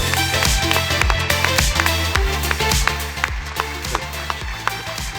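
Conference attendees at a sustainability summit plenary in Peru clap in a loose, uneven patter under music with a steady beat, with distinct claps standing out.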